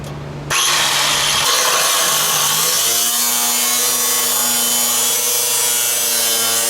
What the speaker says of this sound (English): One good thing about rust is it cuts like butter.